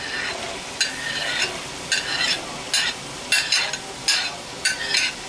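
Onions fry in a hot pan with a steady sizzle, while a utensil stirs and scrapes in repeated bursts every half second or so, close and moderately loud with no talk.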